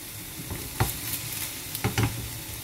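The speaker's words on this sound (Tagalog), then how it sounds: "haluin lang natin para hindi siya masunog" Potato and eggplant frying in a hot pan, a steady close sizzle punctuated by a few distinct spatula knocks and scrapes as the pieces are turned, no one talking.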